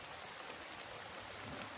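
Steady rain falling, a faint, even hiss of drops across the whole moment with no voices.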